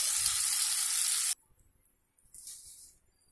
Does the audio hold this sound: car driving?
no